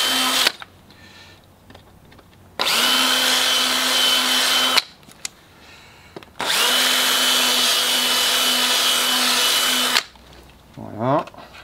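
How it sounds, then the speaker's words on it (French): A power drill bores small holes in a plastic bonsai tray, running loud in two long steady bursts separated by quiet pauses, with a short rising whine at the end. "avec la perceuse, des petits trous, on va élargir."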